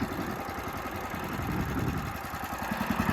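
Wood chipper engine idling, a steady low pulsing rumble at constant speed, close and moderately quiet throughout.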